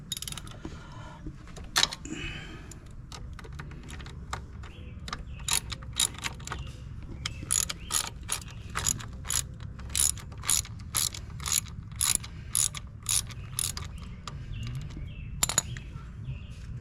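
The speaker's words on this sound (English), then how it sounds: "I'm just going to tighten it down until it's pretty tight." A ratchet tightening a floorboard bolt on a 2021 Honda Rebel 300 motorcycle gives rapid clicking bursts in repeated strokes, close and clear, with pauses between runs and faint bird chirps in the background.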